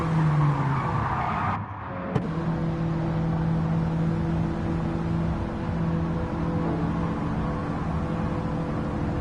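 A race car in Gran Turismo 7 drones at high revs, its engine tone dipping briefly with a tire squeal before holding a loud, steady pitch.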